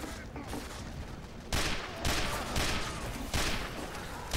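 Dense, loud gunfire from the Spy in the video game Team Fortress 2, with rapid shots piling into sustained bursts and several sharp attacks, amid busy game noise.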